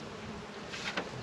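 Honeybees buzz around an open beehive in a short, steady, fairly close drone that swells briefly near the end, with no voices.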